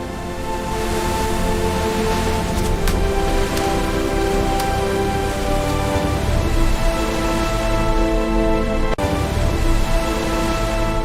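Steady rain falling, an even dense hiss that carries on with no voices over it.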